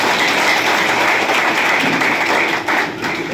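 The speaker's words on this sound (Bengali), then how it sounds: "সেই জন্য তাদের জন্য একটা করতালি দয়া করে সবাই" A crowd at a Bengali political gathering applauds, steady dense clapping sustained at a constant loud level throughout, with no pauses.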